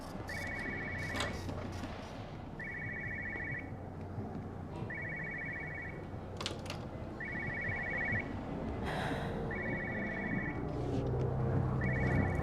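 A telephone rings in Everybody's Gone to the Rapture, a steady electronic trill repeating in regular bursts about every two seconds, moderately loud over a low rumbling ambience with occasional clicks and knocks.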